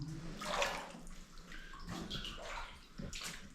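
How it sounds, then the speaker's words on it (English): Water trickles and splashes steadily from a spring seeping out of rock inside a Minecraft game scene set in a New Zealand goldmine, a continuous close wash of flowing water with no talking. "there's water coming down. So there must be some kind of internal mountain spring there."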